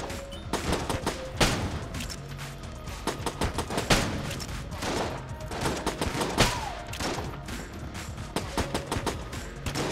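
Sustained gunfire in Enter the Gungeon from a weapon with a high rate of fire, loud cracking shots in irregular clusters and volleys across the whole stretch, with no speech over them.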